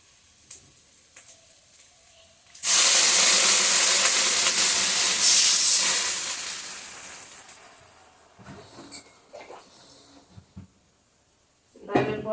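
Water poured into a pan of spiced potatoes frying for a Bengali lentil-fritter curry sets off a sudden loud burst of hissing steam and sizzle, which fades gradually over several seconds, followed by quieter clinks and stirring.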